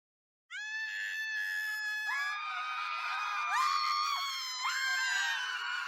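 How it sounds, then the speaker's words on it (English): In an animation, a librarian shrieks in terror with a long, shrill, sustained scream that wavers and swoops in pitch, loud and close, overlapping with other high screams. "The librarian, witnessing the scene, put on her glasses and screamed in terror."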